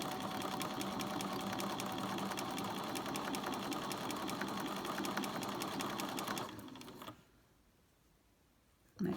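Sewing machine stitching a centimetre seam on a baker boy hat outer, a fast steady clatter that runs loud for about six seconds, then slows and stops, with a brief sound at the very end.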